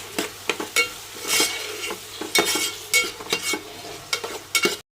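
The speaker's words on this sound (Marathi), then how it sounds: "तर आता टोमॅटो पण आपण मऊ होईपर्यंत परतून घेऊया" Tomatoes sautéed in a pan for spinach chicken, stirred with a spatula in steady scraping strokes over a soft sizzle, with clicks of utensil against metal and no talk.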